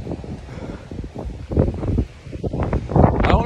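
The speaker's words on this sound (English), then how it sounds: "It's like windy out here" Gusty storm wind rushes and buffets the microphone in uneven surges, louder toward the end, with faint rustling.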